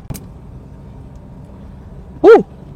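A Toyota Corolla Twincam GTi with an automatic transmission drives along, giving a steady low engine and road rumble from inside the cabin. A sharp click comes early, and a short, louder tonal burst sounds near the end.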